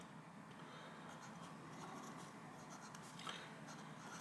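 A Sheaffer PFM fountain pen with an inlaid nib lays down broad strokes on paper, giving faint, soft scratching against a quiet room with no talking.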